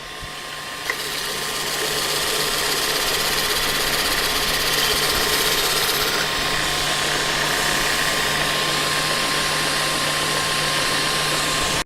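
Knife grinder fitted with a hollow/straight grind attachment runs steadily and loudly, a continuous whirring motor drone with a faint hum, starting just under a second in and holding unbroken to the end, no speech.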